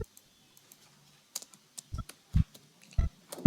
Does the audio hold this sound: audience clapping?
no